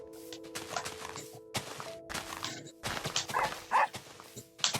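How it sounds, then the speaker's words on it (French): A dog barking inside a survival video game, several sharp barks near the end over a busy, layered game soundscape with steady tones and footsteps. "ça, au moins, c'est un jappement assez correct"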